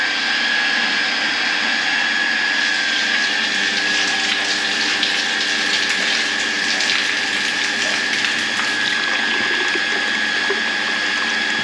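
Very hot water runs steadily from a tap in a continuous hiss with a faint mechanical whine, unchanging throughout and with no voices.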